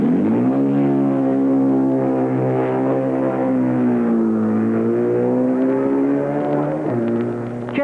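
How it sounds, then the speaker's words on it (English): A German BMW racing motorcycle engine roars loudly at the start of the 1958 Senior TT race, with a sustained high-pitched revving tone that rises and falls continuously. "Now on to 1958, when Jeff Duke made a really sparkling getaway in the senior on his German BMW."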